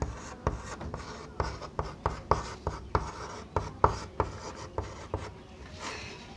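Chalk or pen strokes writing out a chemistry equation about burning magnesium metal in oxygen during a Class 10 science lesson, a steady run of short scratchy taps and scrapes, close and moderately loud, with no talking.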